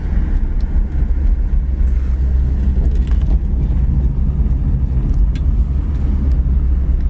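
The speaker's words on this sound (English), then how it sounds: "Car idles down nice." A red 1965 Ford Thunderbird idles after a drive, giving a steady, loud low engine rumble that holds evenly throughout, with no talking.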